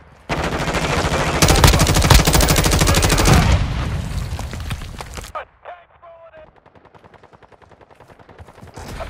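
Dense automatic gunfire in a video game rattles loudly for several seconds, then breaks off into a quieter stretch of scattered clicks and faint rapid shots.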